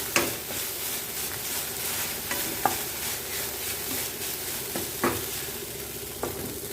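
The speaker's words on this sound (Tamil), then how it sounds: "நல்லா அந்த நெய்யிலேயே வறுத்து கொடுங்க" Food fries in ghee in a pan while being stirred, with a steady close sizzle and occasional sharp scrapes and clinks of the spoon against the pan. No one speaks.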